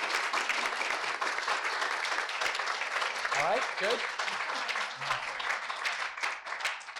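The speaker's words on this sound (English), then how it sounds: "give them another round of applause" An audience at a launch presentation applauds the speakers with sustained clapping while someone talks briefly over it, and the applause thins toward the end.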